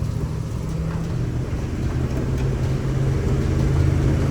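Engine of a 1957 Chevy step-side truck low on transmission fluid, revving in a low, rough drone while the gearbox fails to shift, steady and fairly close, rising slightly toward the end.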